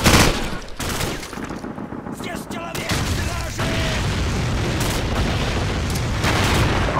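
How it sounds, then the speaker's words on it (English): Mortar shells exploding in the Modern Warfare campaign, with loud battlefield booms and gunfire-like bursts filling the whole stretch, a dense, continuous barrage with sharp blasts near the start and middle. "They're targeting our position with mortars."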